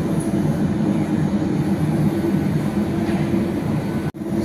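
Underground metro train rumbling through a station in Greece, a loud, steady low roar with rattling noise that drops out briefly near the end.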